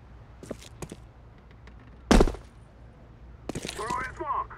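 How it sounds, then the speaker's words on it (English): A flashbang grenade goes off in Counter-Strike 2: one sharp, loud broadband burst partway through, with faint clicks and movement before it and brief ringing game noise after. "I throw in a flashbang."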